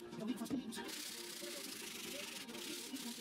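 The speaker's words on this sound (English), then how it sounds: "I then did some final sanding by hand with some 120 grit paper" Pallet wood is rubbed by hand with 120 grit sandpaper, giving a faint, steady scratchy hiss with a few brief louder strokes near the start, close by and alone.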